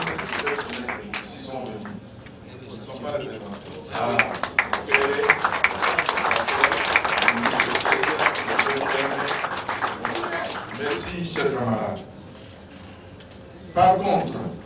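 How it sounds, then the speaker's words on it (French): Applause at a PPRD party budget conference hall, bursts of clapping rising and falling across the room, mixed with a speaker's amplified voice talking over much of it before a final short burst near the end. "Il y a lieu de les encourager aussi par les applaudissements"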